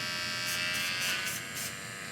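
An electric hair clipper runs steadily after its blades have been cleaned and oiled, giving a smooth, even buzz up close with brief brighter pulses and no talking.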